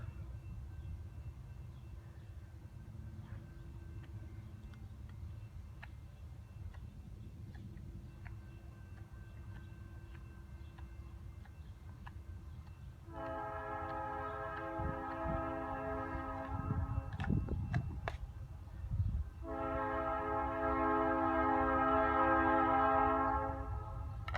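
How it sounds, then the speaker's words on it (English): Low rumble of a passing train in a city builds, then a loud horn sounds twice in long blasts as the train rolls by nearby. "You guys are gonna hear a train go by."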